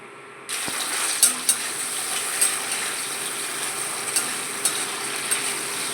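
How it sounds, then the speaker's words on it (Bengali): Potatoes and green chilli drop into hot oil in a wok and burst into a loud, continuous sizzle, with occasional clinks and scrapes of stirring over the frying. "আলু একটু ভাজা ভাজা করে নিচ্ছি আগে"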